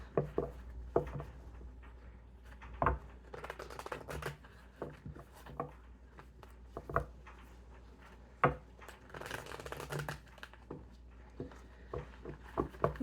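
Tarot cards are shuffled close by in repeated bursts of riffling and soft slaps, with quiet pauses between each shuffle.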